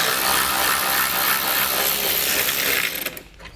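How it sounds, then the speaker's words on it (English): Socket wrench working a 7mm bolt out of the grille beside the headlight on a 2016 GMC Sierra, a dense continuous ratcheting rasp that is close and loud, then tapers off into quieter clicks at the end. "So we'll grab a 7mm socket and pull the bolt out"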